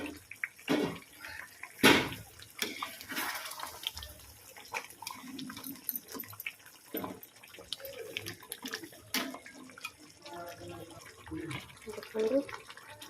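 Water poured gradually into mutton in a clay pot, splashing and trickling in uneven bursts with clinks, close, with intermittent talking over it.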